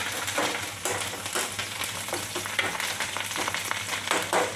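Tempering spices sizzle and crackle steadily in a hot pan, a continuous close frying hiss with small pops throughout and no talking.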